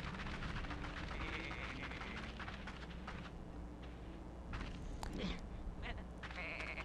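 Sheep in the video game Tak and the Power of Juju bleat a few times over quiet game ambience and scattered effects, faint and intermittent.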